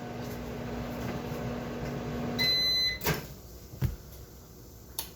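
A microwave oven heating a Hot Pocket hums steadily, then its end-of-cycle beep tone sounds, followed by a couple of sharp clunks like the door opening.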